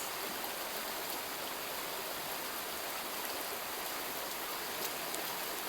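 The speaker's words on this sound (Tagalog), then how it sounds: "Ang hina naman ang agos." A stream with a weak current flows steadily and close by, giving an even, unbroken rush of water that holds at the same level throughout with no voices.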